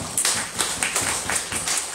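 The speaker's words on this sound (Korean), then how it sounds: "다시 한번 크게 박수로 환영하시겠습니다" A church congregation claps together at a thanksgiving service honoring an honorary elder, a short, lively burst of many hands in a fairly close room, with no talking over it.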